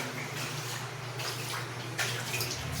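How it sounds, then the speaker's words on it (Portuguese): Floodwater from a heavy rainstorm flowing inside a house in Iguatu, Brazil, a steady close rush and splash of running water that swells slightly toward the end. "chuva tão grande que entrou água dentro de casa."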